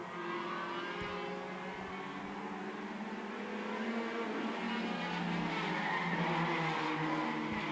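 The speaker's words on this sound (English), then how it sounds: "They're sliding around as Tony Bino is putting down the horsepower," Race cars sliding around a dirt oval under power, a continuous loud roar of engines with rising revs and tire scrub, heard from trackside with no voices.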